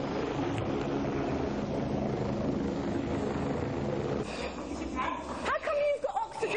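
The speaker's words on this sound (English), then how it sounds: "I can still hear the helicopter." A steady helicopter rotor drone fills the background, with talking over it and a few sharper sounds near the end.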